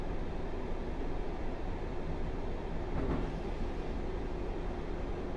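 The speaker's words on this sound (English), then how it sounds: "I like that noise going over the points" In Train Sim World 6, a train rolls steadily with a dense, continuous rumble and a brief rattling clatter partway through as the wheels cross points.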